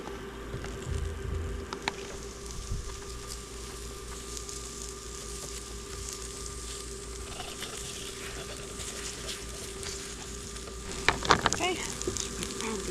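Eggs fry in a pan on an induction camp stove, a faint, steady sizzle heard up close, with a brief clatter of utensils near the end.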